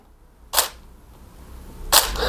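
A DSLR camera's shutter fires twice, each a crisp, sharp mechanical click about a second and a half apart, close and distinct against a quiet room.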